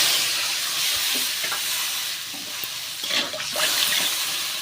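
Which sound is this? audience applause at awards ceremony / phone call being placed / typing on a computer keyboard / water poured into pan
water poured into pan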